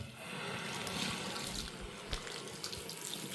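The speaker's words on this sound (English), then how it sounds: "you just gotta squeeze while you're running it underneath the water" Tap water runs steadily into a sink while a part from a Bissell Powerforce Compact Turbo vacuum cleaner is squeezed and washed under it, a continuous close splashing rush with no talking.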